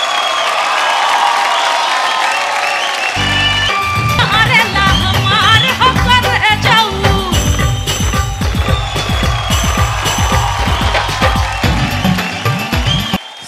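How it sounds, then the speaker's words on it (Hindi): Audience at a celebrity stage entry on a Hindi entertainment show, with loud music and a bass beat running throughout and crowd cheering and clapping mixed under it, all dense and continuous. "तो जोरदार ताली के साथ स्वागत कर जाओ भारत माता की बेटी"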